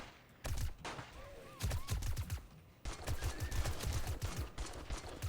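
Assault rifle gunfire in the zombie survival video game 7 Days to Die, fired in sustained rapid bursts of close, punchy shots with brief pauses between volleys.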